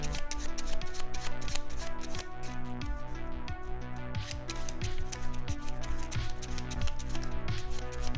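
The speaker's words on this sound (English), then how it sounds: "We shuffle the cards." Playing cards being shuffled by hand during a card magic routine, a steady run of crisp, rapid riffling clicks and flutters, close and loud, continuing without pause.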